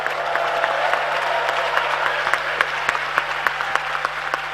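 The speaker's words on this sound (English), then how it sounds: "why don't you show it with not just a round of applause, but a big shout from young people" At a youth dialogue session in Ghana, an audience of young people claps continuously with sharp individual claps standing out, under a steady electrical hum; any shouting is not distinct.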